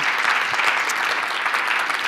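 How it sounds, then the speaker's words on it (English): Steady, dense applause from a crowd, loud and continuous with no pauses, filling the whole stretch. "So a big round of applause again to everybody."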